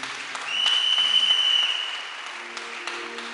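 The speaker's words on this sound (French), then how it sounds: "On acclame le Seigneur Jésus." A church congregation applauds, a fairly distant wash of clapping that swells and then fades over a few seconds, with a voice faintly present beneath.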